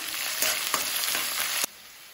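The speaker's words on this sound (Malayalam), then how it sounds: "ഈ സമയത്ത് നമ്മൾ അരിഞ്ഞു വെച്ച സവാളയും പച്ചമുളകും ഇട്ട് കൊടുക്കുക." Chopped onion and green chilli sauté in a pan with urad dal, giving a steady loud sizzle with scraping stir strokes that stops abruptly near the end, and no one speaks.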